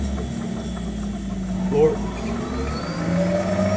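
Club Car 48 V electric golf cart under test as its pedal is pressed, a steady low motor and drivetrain hum with slight vibration that swells a little, with people talking nearby.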